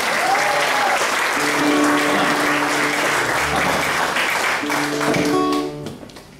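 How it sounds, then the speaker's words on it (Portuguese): Loud, sustained applause from a large audience fills the whole stretch, with musical notes playing underneath before the clapping tapers off at the end. "Senhores e senhoras, o vosso aplauso para António Dias."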